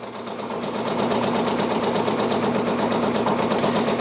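A Brother Persona PRS 100 embroidery machine stitches out a patch, a rapid, even mechanical chatter that ramps up within the first second and then runs steadily and close.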